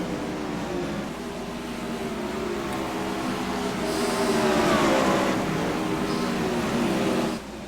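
Winged sprint race cars run side by side on a dirt track in the King of Wings series, with a steady loud engine drone that swells as the cars pass and then drops off sharply.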